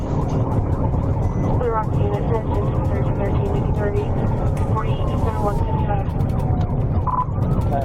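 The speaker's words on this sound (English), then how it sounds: "The moment the sirens wailed, he buried the accelerator." A police car siren wails repeatedly during a high-speed chase, rising and falling over loud road and engine noise, with radio chatter and talking throughout.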